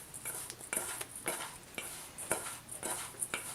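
A brown sugar and cinnamon crumb mix is stirred in a bowl, with rhythmic scraping strokes roughly every half second, close and fairly quiet.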